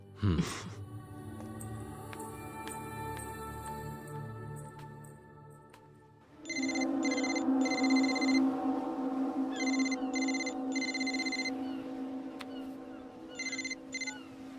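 A telephone rings in a Telugu film scene: after a swelling musical passage fades, loud repeated electronic ring bursts come in regular pairs and continue to the end.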